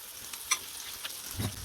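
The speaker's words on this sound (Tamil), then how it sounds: "இதையும் மிதமான தீயில வச்சு நல்லா பொரிச்சு எடுத்துக்கலாம்" Masala-coated vaval fish fries in oil in a pan over a medium flame, a faint low sizzle with a few light clinks of a spatula and one soft bump as the fish is moved.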